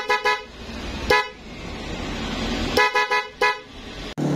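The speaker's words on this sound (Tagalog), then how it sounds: "pindutin naman natin ang hollow switch para tumunog ang loud horn" A motorcycle's dual loud horn honks in short sharp blasts: a few quick toots, a single blast, then a rapid cluster of beeps, loud and close with no talk.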